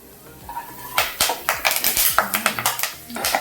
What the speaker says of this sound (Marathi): थोडेसे काजू हे अगदी आपण बारीक गॅसवरती छान परतून घेतोय